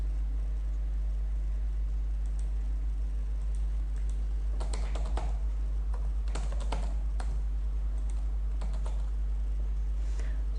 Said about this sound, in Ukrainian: І пишемо текст, так як в Word.